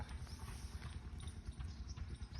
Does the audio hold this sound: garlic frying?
no